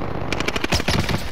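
Rapid automatic gunfire bursts in an online shooter match while a sniper picks at the player, a dense run of sharp loud cracks filling most of the moment, close and punchy.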